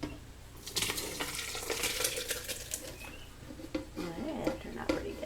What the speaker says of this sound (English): we're going to take everything in our pot and we're going to pour it into our blender